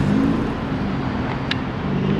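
A naturally aspirated Nissan S15 engine drones loud and raspy close by in an outdoor parking area, a continuous rough rumble with traffic-like background noise.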